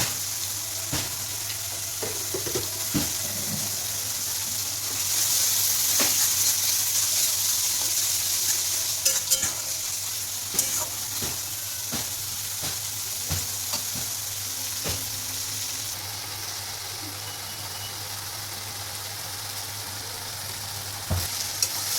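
Spice masala fries in oil with a little sugar while prawns, potato and pointed gourd are cooked, giving a steady close sizzle broken by repeated scraping stirs and clinks of the spoon against the pan, with a brief louder burst midway.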